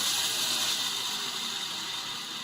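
A sawmill blade cuts through a log with a steady, high mechanical whir and rapid ratcheting texture, running continuously, fairly close, without pause.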